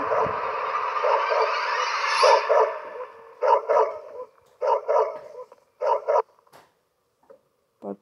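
Dog barking in the horror video game Head Horse, played on hard mode, comes as short bursts of barks in clusters after a noisy stretch, fairly close and loud, with no talking.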